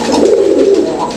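A Mili racer pigeon coos close by, a steady low throaty murmur that carries on without a break for just over a second, with no talking.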